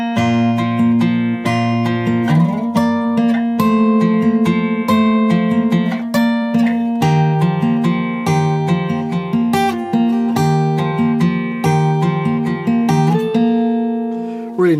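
An acoustic guitar plays the intro of a song, picked notes and chords ringing out clearly in a steady rhythm, close and solo, with no voices.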